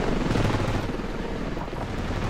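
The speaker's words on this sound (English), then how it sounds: "Enemy helicopter." An enemy helicopter in the video game Ravenfield gives off a dense, continuous rotor and engine roar, loud and close, with gunfire mixed into the din.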